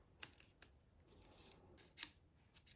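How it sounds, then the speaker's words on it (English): Scissors trimming the edges off a watercolored paper card, a few faint, close, crisp snips spaced apart in a quiet room. "So I'm just going to cut off some edges here."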